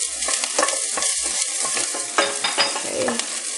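Green chilies hit onions frying in a pan, a loud close sizzle with scattered pops and crackles and a few stirring scrapes, with no talking.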